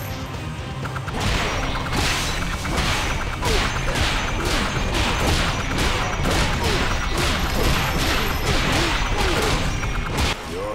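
Thrown daggers and rapid hits in a stick-figure fight in the video game One Finger Death Punch, heard as dense, loud bursts of sharp whacks and swishes repeating quickly over a constant busy backdrop.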